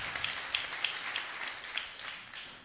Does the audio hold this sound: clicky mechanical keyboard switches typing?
no